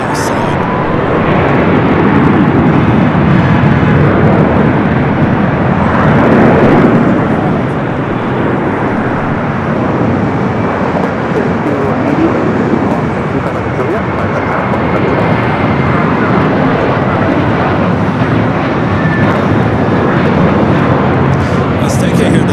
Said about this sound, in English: Delta 767 at 300ER coming in from Atlanta, flight 895 at number 2 for arrival here on the south side